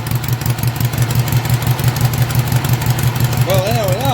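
A Norman motorcycle engine runs on both cylinders through a ram horn exhaust, noticeably too rich. A loud, rhythmic low thumping idle continues steadily throughout, and a brief warbling tone enters near the end.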